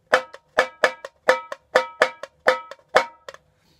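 Tambourine from a samba batucada lesson, played with finger muting so each jingle burst is cut short: a steady pattern of bright, clipped shakes with lighter pickup hits in between, close and alone, ending in silence.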